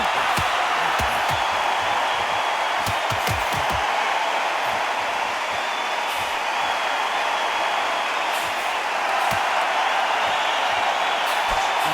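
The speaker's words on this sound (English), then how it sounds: "For all these reasons, you can hear everybody in the crowd." Boxing crowd noise in a theatre from a video game, a steady, dense roar of the audience that holds at an even level throughout, with faint thumps underneath.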